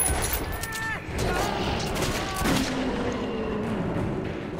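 Gunfire in the video game Metro 2033 on Ranger Hardcore, a dense burst of sharp shots and crashes in the first second, then continued rumbling combat noise with a voice talking over it.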